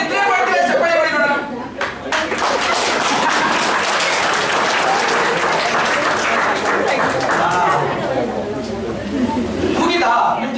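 An audience at a coaching lecture session applauds, with dense, steady clapping that fills about ten seconds before tapering slightly, mixed with crowd chatter and some laughter.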